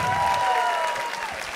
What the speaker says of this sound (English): Give Greg and his girlfriend a nice big round of applause.